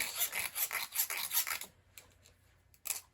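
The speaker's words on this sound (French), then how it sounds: "Je vais limer ça." A hand file rasps a burr off a laser-cut metal indexing plate for a Vevor BS-0 dividing head, about six quick rhythmic strokes close up, then quieter pauses and a couple of light scrapes.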